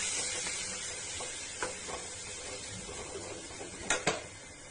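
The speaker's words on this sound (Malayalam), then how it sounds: "ഇതിലേക്ക് ചെറുതായി അരിഞ്ഞു വെച്ച ഉള്ളി ചേർക്കാം. ഒന്ന് നല്ലോണം വഴറ്റി വരുന്നവരെ ഇളക്കാം." Chopped onions sizzle steadily in a pan with ginger, green chilli, garlic and Kashmiri chilli powder for chana masala, with a few scattered clinks and scrapes of stirring over the constant frying hiss.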